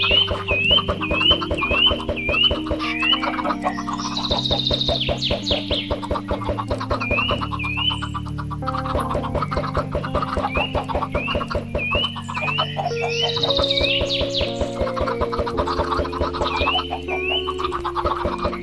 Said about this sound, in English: We're just gonna have a ton of chickens in here.